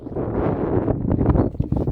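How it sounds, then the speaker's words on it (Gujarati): Close wind buffets the microphone in a village field in Mandvi, a low rumbling rush with gusty fluctuations throughout. "પવનનો અવાજ તમને કદાચ આવતો હશે"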